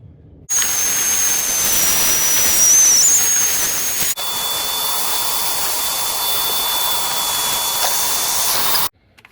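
Vacuum cleaner running inside the cabin of a 2009 Volvo C70 T5, a loud steady whooshing hiss with a high whine that starts abruptly, shifts pitch midway and cuts off near the end.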